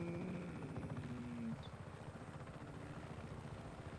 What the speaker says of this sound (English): I'm putting the helicopter down right.